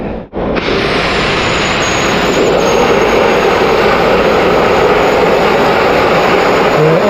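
A sandblaster blasting a narrowboat hull with its valve opened wider, a loud, continuous roaring hiss that starts abruptly after a brief gap and holds steady, close and unbroken, with no talk.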